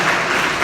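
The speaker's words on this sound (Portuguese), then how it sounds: "Dê uma salva de palmas para Jesus." A church congregation applauds for Jesus at an evening worship service, a dense, steady burst of clapping filling the whole moment with no talk over it.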